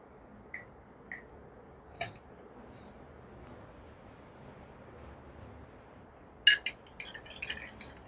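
A spoon stirs 10 ml of thyroid syrup into 100 ml of water in a glass. A faint room hush and a few scattered ticks lead into a quick cluster of light metallic clinks near the end.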